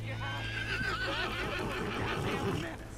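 A horse in the video game Red Dead Redemption 2 lets out a long whinny while prancing, with hoof clops under it and someone talking over the sounds.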